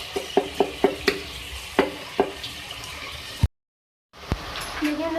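Tomatoes cook in a pan and are broken up with a spoon for beef turai gosht: a run of sharp, rhythmic taps and scrapes over a soft sizzle, a brief silent break, then more tapping and bubbling.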